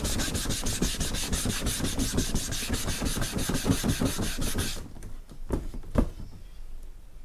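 Rapid rhythmic rasping of sandpaper wrapped on a block, scrubbed back and forth across plastic engine part lettering, then it stops, leaving a few scattered knocks and scuffs.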